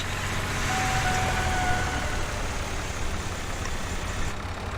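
A tractor engine idles in Farming Simulator 17, a steady low rumble that holds even and continuous throughout, with no voices.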